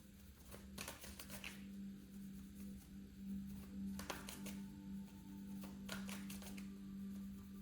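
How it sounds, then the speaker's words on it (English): Quick riffling bursts of shuffled cards, a few rapid flurries spaced apart over a low steady hum, close and fairly quiet. "All right, one more shuffle."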